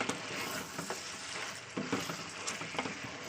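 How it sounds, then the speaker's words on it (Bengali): Tomatoes sautéing in hot oil in a kadai for chicken karahi, a steady close sizzle broken by irregular scraping stirs of the spoon, with no talking. "টমেটোটা দিয়ে আবার আমি একটু কষিয়ে নেবো"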